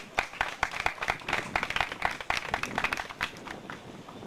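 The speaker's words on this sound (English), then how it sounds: "let's give her a round of applause" An audience at a Freetown pitch night claps for a presenter, a dense burst of many hands applauding at once, close and lively, steady for several seconds without fading.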